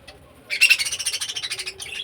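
Small birds in a home aviary let out a rapid, close run of bright chirps that starts abruptly and pulses quickly for over a second over a quiet room background.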